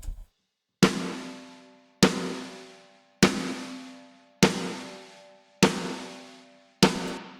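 Six evenly spaced snare hits, each a sharp crack with a roomy burst of ambience that cuts off abruptly, leaving near silence between strikes.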